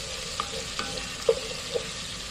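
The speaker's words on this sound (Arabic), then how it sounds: "هنا بقى نزلت بالايه، بالزيت، وانزل عليه بالثوم" Garlic frying in hot oil in a pan for a spinach dish, a steady close sizzle with a few light stirring clicks and scrapes, no talking.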